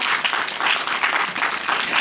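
An audience claps steadily in welcome at a gathering, a dense, continuous patter of many hands that stays fairly close and even throughout, with no voices standing out.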